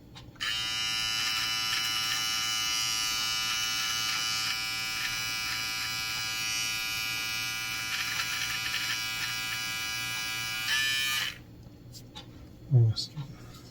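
A Brightup rechargeable hair clipper and beard trimmer runs for about eleven seconds with a steady, close, high-pitched electric buzz, then cuts off abruptly, leaving a quiet room with a brief knock near the end.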